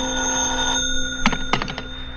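An old telephone bell ringing in a 1950s radio suspense drama, giving short clattering bursts of rings over a steady electrical hum, with no one talking.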